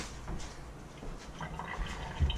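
Brined chicken pieces are tipped into a colander, giving a soft, close splashing and draining of liquid over a couple of seconds that ends in a small thump, with no speech.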